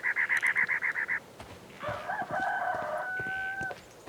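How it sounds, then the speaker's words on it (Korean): A rooster crows in a game scene. A rapid run of clucks is followed by a full, drawn-out cock-a-doodle-doo at moderate distance. "아, 닭소리구나."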